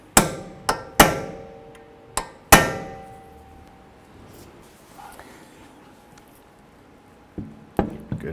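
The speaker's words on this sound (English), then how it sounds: "I'm going to go ahead and dimple the nut." Sharp metallic hammer blows dimple the CV axle nut on a 2012-17 Toyota Camry: several loud, ringing strikes in an irregular rhythm, a quieter pause, then a few more hits near the end, close to the listener.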